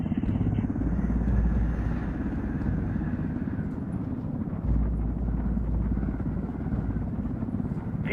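A helicopter from the video game Ghost Recon Wildlands flies steadily, giving a low, droning rotor and engine rumble that stays even and fairly loud throughout.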